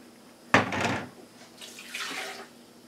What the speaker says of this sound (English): we're going to put the water in there in each of the blenders